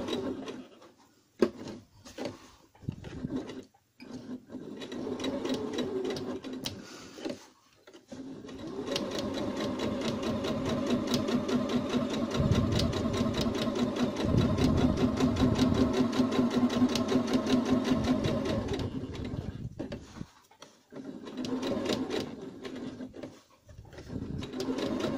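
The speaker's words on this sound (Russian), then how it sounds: "Так, теперь мы шьем руки, не зашивая отверстия для выворачивания и для набивания." Sewing machine stitching fabric doll arms for a toy, steady whirring runs with short pauses between bursts, close and alone with no talk.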